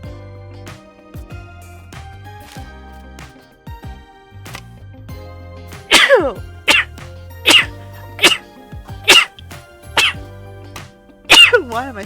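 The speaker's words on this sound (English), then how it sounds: "Why am I sneezing?" A series of sharp bursts like sneezes or coughs from a person, about seven loud close explosive bursts in the second half, following quieter sounds of handling and moving things.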